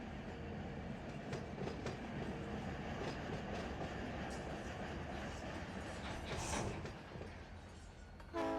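Locomotives in the Run 8 train simulator game rumble steadily with a low engine drone and faint rhythmic clicks, moderately close, ending with a brief louder burst; no speech.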